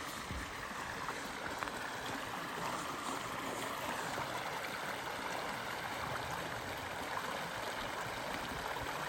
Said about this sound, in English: And here's our Spring Creek, all its majesty.